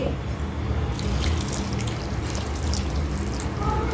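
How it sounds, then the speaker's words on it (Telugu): A tea glass of hot water poured into a mixer jar holding coconut chutney paste, a continuous close trickling and splashing pour that fills the whole stretch. "మనం ఇలా ఒక చాయ్ గ్లాసు వేడి వాటర్ వేసుకుందామండి"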